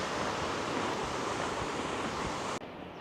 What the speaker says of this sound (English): Nice waterfall cascading down.